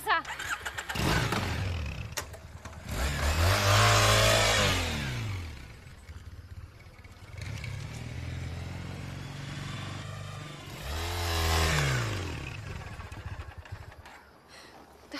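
A motorcycle engine starts and revs hard several times, with rising and falling swells of engine noise at close range, and some speech mixed in between the revs.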